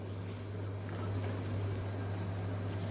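A steady low bubbling and hiss of channa masala curry simmering in a pan, continuous and close, with a constant low hum underneath and no voices.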